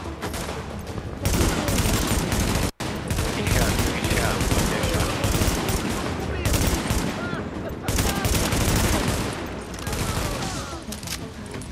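Sustained bursts of automatic gunfire in the co-op shooter game The Division, loud and dense, rattling almost continuously with a brief gap early on.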